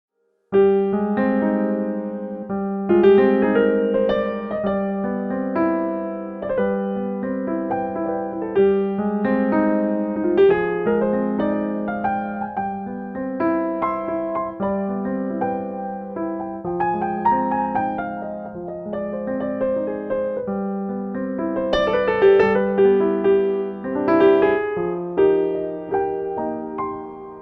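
Solo piano from the XPERIMENTA Due Kontakt sample library playing a steady, gentle chordal passage with sustained bass notes, clear and close, with a slightly synthetic sampled tone throughout.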